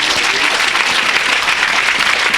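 Dense, steady applause from a church congregation fills the whole stretch, loud and close with no pauses or single claps standing out.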